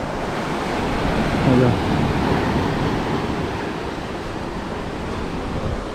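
Ocean surf rolls steadily onto the empty Devghali beach at Kasheli, Ratnagiri, before high tide: a loud, continuous wash of waves mixed with wind buffeting the microphone, with no clear voices.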